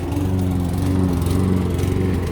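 A lawn mower engine drones steadily and loudly throughout, with a constant low mechanical hum and no pauses.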